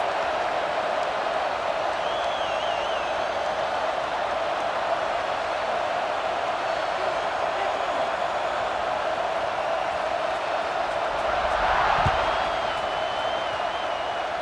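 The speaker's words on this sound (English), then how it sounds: "this crowd is feeling themselves after that last drive" A stadium crowd in the EA Sports College Football 26 video game keeps up a steady, moderately loud roar of cheering, with a brief swell near the end.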